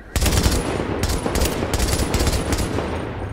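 A light machine gun fires long, rapid automatic bursts in the Dark Zone of The Division during a manhunt, loud and close, the rattling volleys broken by brief pauses.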